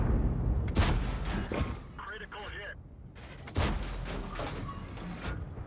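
T57 Heavy tank cannon fire in World of Tanks: two loud, sharp booming shots with rumbling decay, separated by a quieter gap holding brief mechanical reload tones, with someone talking over it.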